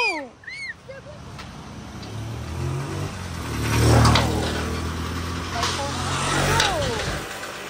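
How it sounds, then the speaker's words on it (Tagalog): Motorcycles rumble past nearby on a village road in Africa, swelling and fading as they cross, with birds chirping briefly at the start and voices in the background. "Tapos dumadaan yung mga motorsiklo."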